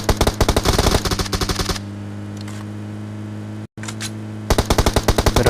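Rapid bursts of automatic gunfire in the mobile battle royale game BGMI, loud close volleys at the start and end with a quieter humming pause between them.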